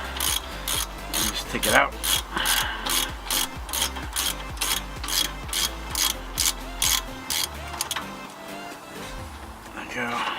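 A ratchet with a 14 mm socket clicks in quick, close bursts of pawl ticks while loosening a brake caliper bolt on a Nissan Xterra front brake. Someone speaks briefly over the ratcheting.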